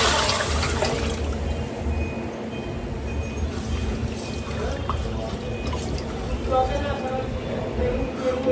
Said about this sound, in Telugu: వాటర్ పోసుకున్నాం